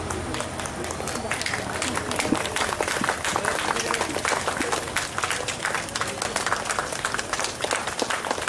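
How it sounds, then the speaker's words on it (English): An audience of parents applauds as guests are received at a school's annual day celebration, a dense continuous clapping that lasts throughout with crowd noise mixed in. "Please, guardians, be clapping at the time of receiving."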